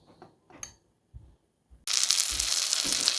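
Flour- and egg-coated zucchini hits hot oil in a pan with a sudden loud, steady sizzle that keeps going, after a few soft clinks and taps.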